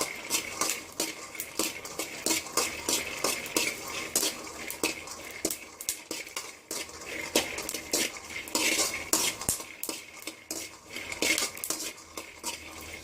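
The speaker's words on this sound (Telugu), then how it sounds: "మీడియం ఫ్లేమ్లో పెట్టి మనము వేయించుకోవాలండి" Peanuts roasting in a pan over a medium flame, stirred steadily so the nuts rattle and scrape against the metal in dense, continuous clatter with faint sizzle beneath, close and fairly loud with no voice.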